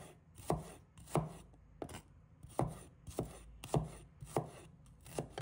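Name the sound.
knife slicing shallots into pieces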